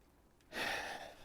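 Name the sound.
heavy breathing after folding an electric scooter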